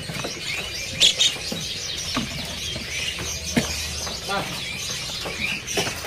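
Oriental magpie-robins (kacer) held as grade-A sale stock call with scattered short chirps and whistles, some sharp and close, under steady background chatter from people nearby.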